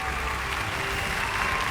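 An audience applauds at a gathering, a steady, fairly soft wash of clapping that stays even throughout the short stretch.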